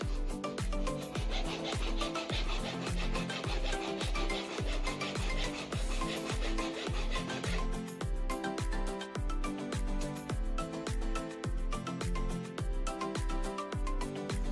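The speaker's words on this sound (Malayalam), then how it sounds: "ഞാനിത് കട്ട് ചെയ്ത് കളയാനായിട്ട് ഒരു ഹാക്സോ ബ്ലേഡ് വെച്ചിട്ട് കട്ട് ചെയ്ത് കളയാൻ പോകുന്നത്." A hacksaw blade sawing off the top of a plastic bottle, a steady rapid back-and-forth rasp of close, even strokes that continues without pause.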